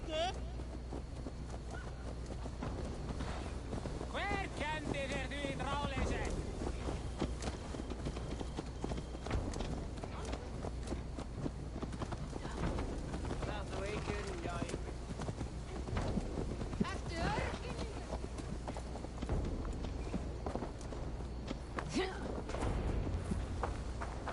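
Horse hooves clip-clop at a steady walking pace for a long stretch in the video game Assassin's Creed Valhalla, with a voice talking intermittently over them.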